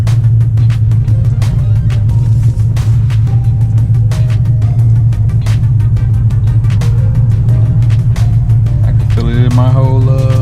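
Loud Ford Mustang engine running close behind a car during a ride, a heavy, steady low rumble that stays constant throughout, with faint music and some talk over it.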